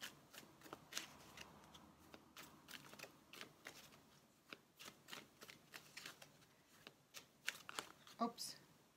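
Quiet, rapid riffling and flicking of tarot cards being shuffled, in irregular bursts of soft papery clicks at close range.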